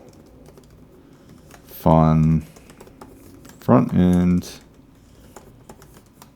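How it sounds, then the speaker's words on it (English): Computer keyboard typing while setting up a GraphQL Ruby on Rails demo project, fairly quiet and close, running beneath two short bursts of a man's speech. "I'm typing it all out because I have that other folder."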